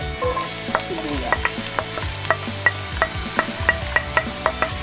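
Chopped onions sautéing in a pan while cooking eggplant filling, a steady frying crackle broken by regular light scraping and clinking strokes of stirring, close and fairly loud, with a faint tonal hum behind it and no talking.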